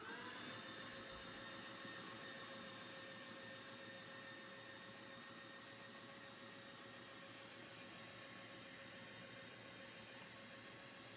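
Electric meat grinder mincing meat for cutlets, a steady motor whine with a constant hum running unbroken and moderately near, no voices.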